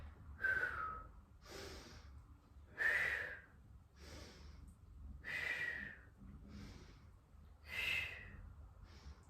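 Slow, controlled breathing during a Pilates core exercise: about five alternating cycles of audible exhales and inhales, some with a faint whistly edge, close and quiet with no talking.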